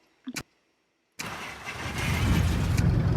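Piper Tomahawk propeller engine starting in the X-Plane flight simulator: a couple of clicks, then the engine catches abruptly and settles into a steady, building rumble.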